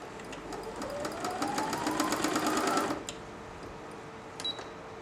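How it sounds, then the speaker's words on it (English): A Brother Innovis-600 sewing machine runs slowly at reduced speed, giving a steady, close mechanical whir with an even rapid needle rhythm for about three seconds before stopping, followed by a short electronic beep. "So now the machine will only go very slowly."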